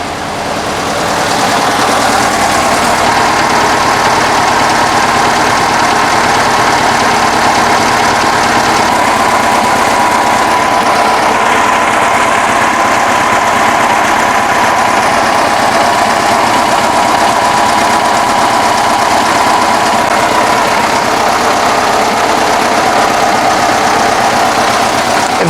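A 1965 VW Bus engine idling with a stutter, a loud, steady, close-up mechanical drone with an uneven, faltering pulse that carries on without a break for about 25 seconds, with no talking.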